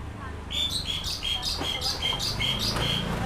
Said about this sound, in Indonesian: Asik, tuh suara burungnya mantep tuh.